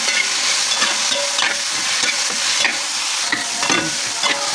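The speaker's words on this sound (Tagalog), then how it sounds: "Lutuin muna natin si kamatis guys." Tomatoes and onions sautéing in hot cooking oil for a Filipino breakfast of dilis, heard close up as a loud, steady sizzle with scraping stirs throughout and no talking.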